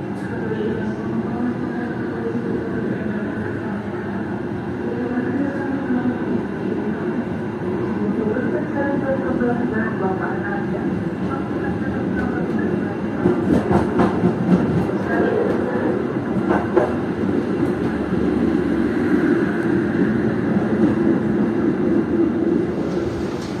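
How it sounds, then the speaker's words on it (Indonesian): Steady rumble and rattle of riding inside an Argo Dwipangga executive train near Klaten, Indonesia, as it passes another train, with a denser clattering burst midway; faint muffled voices sit under the continuous noise. "Ini berpapasan dengan nggak tahu kereta api apa. Kayaknya sih kereta api tambahan ya."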